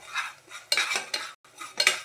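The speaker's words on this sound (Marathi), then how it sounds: "आणि मस्तपैकी आपण त्या सर्व मसाल्याला भाजून घेऊ." Ground spices, including coriander powder and garam masala, are roasted and stirred in a pan for a fish curry, with close scraping and clinking of a spoon against the metal in uneven bursts and a faint sizzle underneath.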